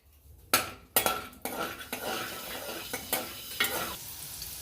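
Garlic and methi leaves fry in a pan for a lasun methi curry, with a spatula striking and scraping the metal several times over a softer sizzle, the stirring strokes clearly spaced and close.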